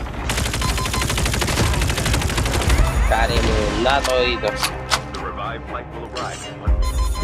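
Video game shotgun fire comes in a dense burst of loud shots, then separate heavy blasts with ringing tails, while someone talks over the action.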